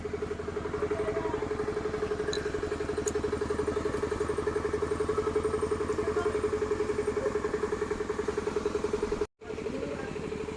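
A motorised engine van running steadily nearby during the rainy season, its engine idling with a fast, even chugging pulse and rattle that continues unbroken apart from one brief dropout.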